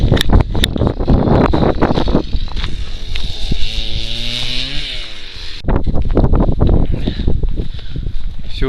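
A very strong north wind roars against the microphone outdoors on a snowy goose-hunting ground in Yakutia, a loud steady rushing buffet with a faint motor whine rising and falling in the middle.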